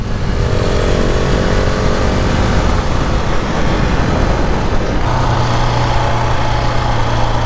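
A KTM 690 Enduro R single-cylinder motorcycle engine roars steadily and loudly while riding, its note shifting partway through as the rider changes gear.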